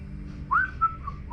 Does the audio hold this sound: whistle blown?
yes